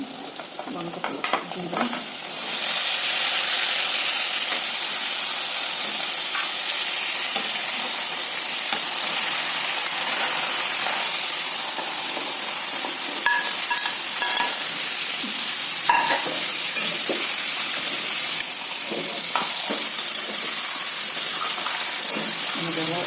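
Pork is added to a hot pan with turmeric and fries for an Assamese pork dish, starting with a few clatters and then settling into a steady, loud hissing sizzle with occasional stirring scrapes and no talking.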